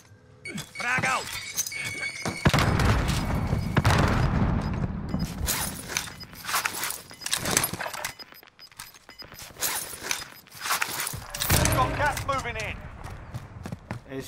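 A frag grenade detonates in Call of Duty Warzone (Cold War), a heavy broadband blast with shattering debris followed by scattered crashes and rattles, while voices talk throughout.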